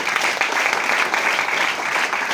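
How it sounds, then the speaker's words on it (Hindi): Loud, sustained applause from an audience at a Champions Day celebration, many hands clapping in a dense continuous patter with no talking over it. "सर, ईश्वर सर, कल्पेश सर, दीपक पत्रवाला मैडम, यहां से जोरदार ताली चाहूंगा उन लोगों के लिए"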